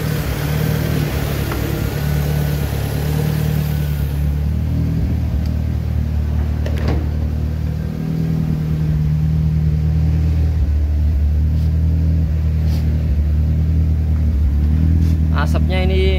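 A fuel-injected car engine running on LPG gas, idling and then revved: a steady, close, low rumble that swells after a few seconds, with people talking over it.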